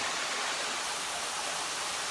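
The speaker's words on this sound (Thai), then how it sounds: "กี้ก็คือน้ำที่มันไหลมาจากรูด้านบน" Continuous broadband rush of falling water, steady and fairly soft, like a small waterfall pouring from a hole in rock, splashing nearby with no voices.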